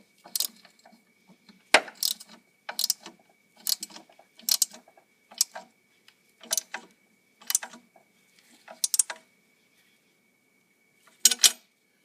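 A bolt on the engine mount of a 1999 Oldsmobile Aurora is tightened with short, sharp metallic clicking bursts in a steady rhythm, about ten close rattling strokes separated by quiet pauses.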